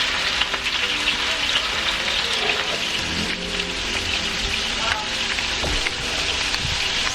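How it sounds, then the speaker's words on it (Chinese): Minced meat with ginger fries in hot oil in a wok, giving a steady, dense sizzle and crackle that runs unbroken and fairly loud for the whole stretch, with no talking over it. "热锅放油，放点生姜，把我们的肉末炒一下。"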